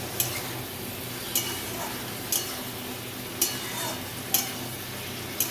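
Mixed vegetable curry with turmeric is stirred in a pan over a low sizzle, with regular spatula scrapes and clinks against the metal roughly once a second, close up and with no talk.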